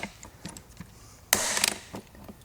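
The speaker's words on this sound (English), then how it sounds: "I'm going to use up all the rivets in that bag." Rivet gun setting rivets on a JDM rear bumper being fitted to an Evo 8: soft mechanical clicks, then one harsh burst of pneumatic hiss and snapping lasting about half a second, close by.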